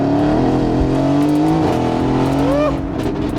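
A Mercedes AMG GTS accelerates hard from inside the car, its engine note rising through the revs and dropping briefly at a gear change before climbing again, loud and close.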